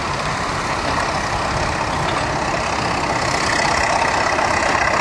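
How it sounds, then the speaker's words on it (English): A Diamond T model 969 medium recovery truck manoeuvres nearby at a vehicle show, its heavy engine giving a loud, steady rumble with broadband noise that swells slightly toward the end. "So if the Diamond T would like to nose across here"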